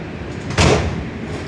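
Train doors slide shut with a single short thud near the middle, set against steady ambient rumble inside a carriage.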